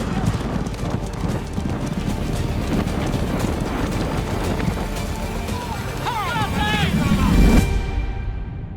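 Thoroughbred racehorses gallop along a racetrack in a steady drumming of hooves, with a crowd and voices talking over it. A horse's whinny-like cries rise near the end.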